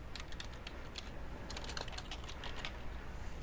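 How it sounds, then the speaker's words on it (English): Rapid typing on a computer keyboard, a close, quiet flurry of irregular key clicks over a low steady background hum, with no voices. "Notice as I start typing"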